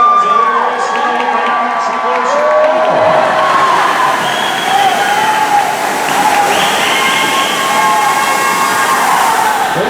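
A loud, continuous crowd roar and cheering fill a swimming venue during a 50 free shootout race. An announcer's voice runs under the noise.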